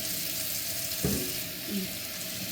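Hot water flushes through a milker on a farm during cleaning and sanitizing, a steady rushing hiss throughout with a brief gurgling surge midway.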